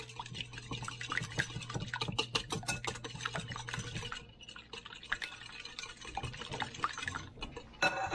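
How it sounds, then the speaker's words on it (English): Eggs whisked in a bowl: a close, rapid run of light clicking taps for several seconds, then quieter scattered taps. "I'm gonna go ahead and just whisk up our eggs a little bit"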